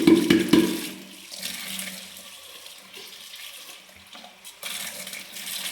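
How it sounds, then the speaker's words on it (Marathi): Water gushes briefly, then runs steadily as a water purifier's sponge is rinsed, a close splashing flow with a louder burst at the start and another near the end. "आतून पण थोडंसं पाणी वगैरे स्पंज धुवून करायचं आहे."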